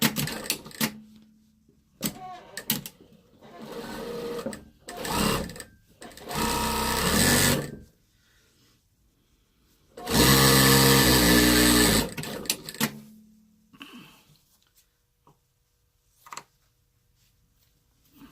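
Sewing machine stitching while piecing a quilt, in several loud bursts of rapid mechanical whirring with pauses between them, the longest and strongest burst near the middle.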